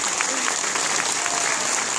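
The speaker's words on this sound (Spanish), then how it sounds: "Fuerte el aplauso, fuerte ese aplauso" A crowd at a Star Wars fan convention in Argentina applauds a Starkiller cosplayer from The Force Unleashed, a brief burst of steady, even clapping with a voice faintly underneath.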